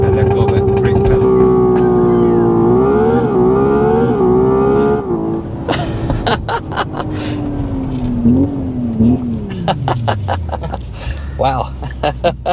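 Simulated engine sound from a 2026 Hyundai IONIQ 6 N electric car, loud and close, rising in pitch through the gears with audible shift drops, then winding down as the car slows; someone talks over it.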